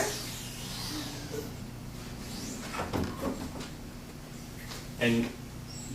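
The door of a BOD POD air displacement body composition chamber opens with a couple of soft clunks and a louder latch-like thump, over a steady low electrical hum.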